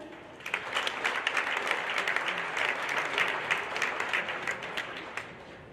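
Audience applause at a high school awards night fills the hall for an award winner, a dense, steady wash of many clapping hands holding at an even level throughout.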